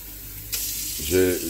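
Tap water starts gushing into a bowl set out for soaking small fish for frying, a sudden steady hiss that swells into a fuller splash, with a brief voice sound near the end.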